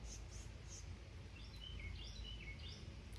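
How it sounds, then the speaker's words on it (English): A bird sings outdoors in the rain. Faint, distant high chirps and short whistled phrases recur over a steady low rumble of rain and ambient noise. "Do you hear that bird?"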